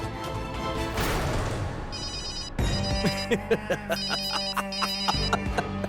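A phone rings while someone calls Yuvi: after a brief crash-like burst, an electronic ringtone plays a repeating melodic pattern, clear and close, with little talk.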